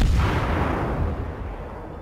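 Heavy naval guns boom from a warship in World of Warships, a single deep blast with a long rumbling roll-off that fades over two seconds, loud and full.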